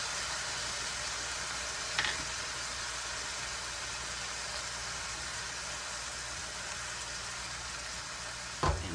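Steady, soft sizzling of food frying in a pan with soy sauce and spices, a constant hiss with a couple of faint clinks and a small knock at the end, no voices.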